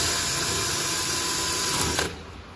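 A router guided by a jig cuts an instrument mounting hole, giving a loud, steady high-pitched whine that runs for about two seconds before the cutting abruptly stops.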